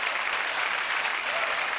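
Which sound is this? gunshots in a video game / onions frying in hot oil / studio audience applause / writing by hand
studio audience applause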